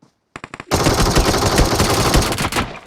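A P90 fires in a video game, with a few quick separate shots followed by a loud, sustained automatic burst that ends abruptly.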